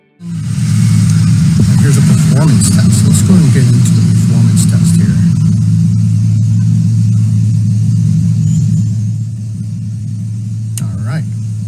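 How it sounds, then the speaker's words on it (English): Car engine idling with cylinder one deactivated, a loud, close, steady low rumble with a rough, uneven character throughout, while someone talks over it. "So right now cylinder one's deactivated and I can feel that vehicle shaking."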